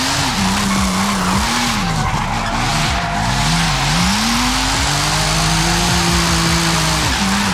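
A BMW M4 tuned for drifting in Forza Horizon 5 roars at high, rising and falling revs while its tires screech continuously through a slide, loud and close with no speech.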